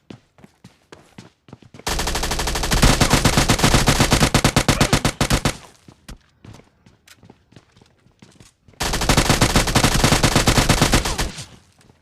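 Automatic gunfire in PUBG Mobile Lite, two long loud sustained bursts of rapid shots separated by scattered single shots and footstep-like clicks, close and dominant, with no speech.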